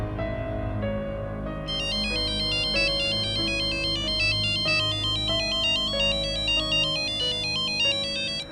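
A phone ringtone plays a repeating melodic pattern of bright electronic tones over a low background, steady and moderately loud throughout with no talking.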